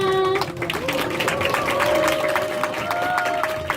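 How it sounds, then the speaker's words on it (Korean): Children and adults at a church Sunday school service applaud their teachers, a lively burst of clapping mixed with excited cheering voices and a high, sustained vocal tone. "우리 선생님 마지막 다시 한 번 박수 부탁드릴게요"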